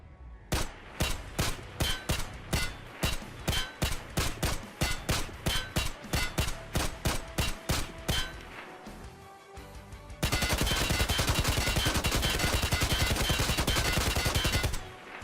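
A SA-58 FAL rifle in a video game, fired from a crouch: a long string of evenly spaced, punchy single shots, then after a short pause a fast, dense continuous automatic burst lasting several seconds; no talking.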